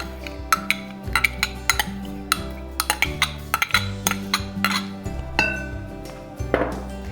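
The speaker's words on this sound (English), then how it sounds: "I like to scrape it with a spoon just to make sure all that butter is out" Metal spoon clinks and scrapes repeatedly against a bowl while clearing out melted butter, a close series of sharp clicks and taps with short scraping strokes between them.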